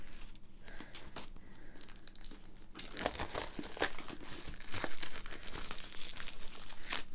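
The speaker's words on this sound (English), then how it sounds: "It comes wrapped in cellophane." Cellophane wrap is peeled and crumpled off a Wordsworth planner box, close, soft crinkling that grows busier and louder halfway through, with sharp crackles and tearing sounds and no talk.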